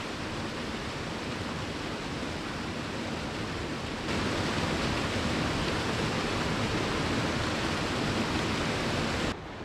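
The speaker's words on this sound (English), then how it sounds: "You can view Woolshed Falls from the viewing platform, or you can get up close and personal by walking onto the granite waterfall itself" Woolshed Falls, a granite waterfall near Beechworth, gives off a steady, broadband rush of falling water that is loud and continuous, rising slightly in level partway through and heard alone without voices.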